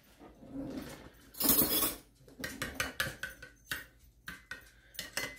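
Lo mein noodles tossed and stirred in a hot pan, a string of close, uneven clanks and scrapes of utensil on metal with a louder clatter early on, no voices.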